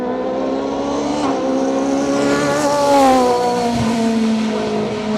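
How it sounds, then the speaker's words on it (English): A race car climbs a bumpy tarmac hillclimb course in France, its engine revving hard and rising through the gears, loud and close, with a brief thump partway through. "we have to deal with the car crashing over a lot of bumps"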